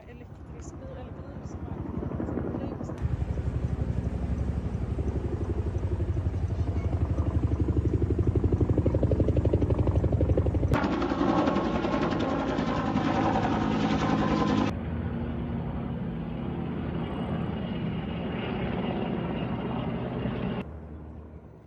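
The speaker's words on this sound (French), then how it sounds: "Les pompiers ont été vus s'attaquer à l'incendie avec des hélicoptères larguant de l'eau d'en haut pour tenter d'éteindre les flammes" Firefighting helicopters dropping water on a wildfire, a loud continuous rotor and engine drone that holds steady, with a harsher, brighter stretch partway through.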